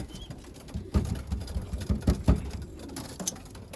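Young 2022 racing pigeons flap out of their loft for their first flight, their wings giving a run of sharp, close claps and patters with soft cooing between.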